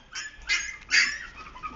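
Several puppies yap and bark in short, high bursts, two louder barks standing out over a faint background, with no talk.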